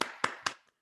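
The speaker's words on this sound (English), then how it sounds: "if you guys can all right now unmute yourself and please clap" Participants in a virtual meeting clap three times, sharp and close through a microphone, before the sound fades into silence.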